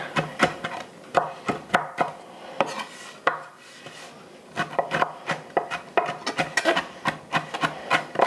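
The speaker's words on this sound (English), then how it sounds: "we're going to be chopping this lemon zest up" A knife chops lemon zest on a cutting board in quick, uneven bursts of crisp taps, pausing briefly midway before resuming in a faster rhythm.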